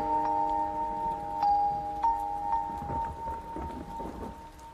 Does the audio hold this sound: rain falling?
yes